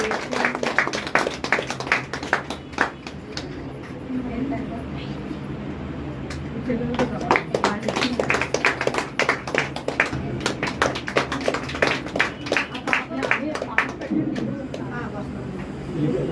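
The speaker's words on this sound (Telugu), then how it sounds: "క్లాప్స్ కొట్టండి" A group claps continuously at a birthday celebration, sometimes in rhythmic bursts, while voices chatter and call out over it.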